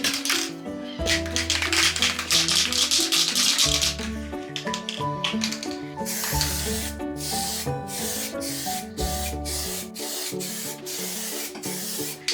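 A stripped SLR bicycle frame is spray painted in hissing bursts of the aerosol, some long and some short, close and loud. A rattling, tonal background pattern runs underneath, and no one speaks.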